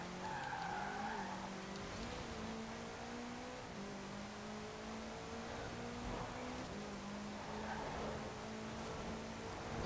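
A 1955 Porsche 550A Spyder driven hard on a motorway in Forza Horizon 4, its engine note rising and shifting through gears with brief tire squeals, steady and fairly quiet throughout.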